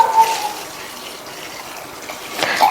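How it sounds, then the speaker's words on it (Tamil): Water is poured into a vessel to rinse thick flattened rice (poha) in a home kitchen, with a soft splashing, trickling wash that rises briefly at the start and end. "தண்ணி சேர்த்து 2-3 தடவை நல்லா வாஷ் பண்ணிட்டு"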